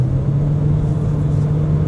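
A Proton S70 facelift with a 4-cylinder turbo engine accelerates, giving a steady, loud, close engine drone with a strong low hum and no talk.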